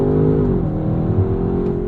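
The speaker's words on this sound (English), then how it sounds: "you get all that brute force from the 4-litre V8" An Audi RS6 Avant's 4-litre V8 accelerating hard, a loud, close, steady engine drone with a rising pitch from inside the car, heard on its own.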